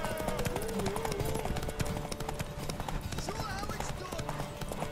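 Clip-clopping hooves and a horse's whinny over game music in The Witcher 3, with a person talking over the sounds throughout.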